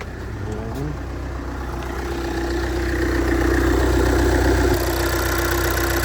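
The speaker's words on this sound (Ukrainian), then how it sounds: "треба заводити пасатіка" A Volkswagen Passat diesel engine runs at a steady, close idle, its low rumble holding even and loud throughout, with a faint rise in level toward the end.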